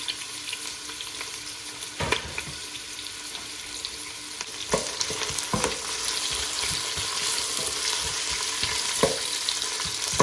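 Chopped onion and garlic fry in a little oil for a shahi chicken roast, a constant busy crackle punctuated by occasional clanks of a utensil against the pan.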